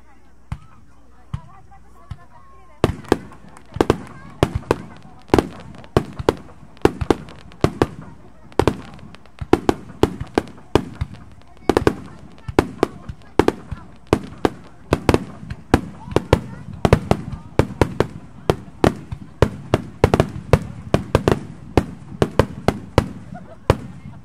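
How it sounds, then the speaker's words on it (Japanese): Golden fireworks burst at a festival in Izumo, and the pops and cracks come in a rapid, irregular barrage that grows denser and louder as the show goes on, with faint voices now and then. "黄金色に輝く花火をご覧いただきます。"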